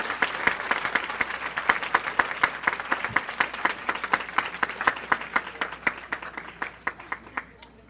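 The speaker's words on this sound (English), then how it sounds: "One more round of applause for our ladies' 2014-15 girls basketball team." Scattered audience clapping at a school board meeting honoring a girls basketball team, individual claps clearly audible in an uneven rhythm, moderately close and thinning toward the end.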